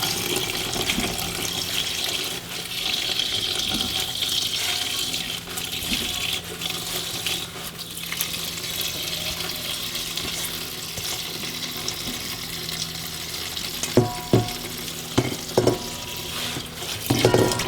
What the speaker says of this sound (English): I'm just going to take all my nice leaves, throw it in the water.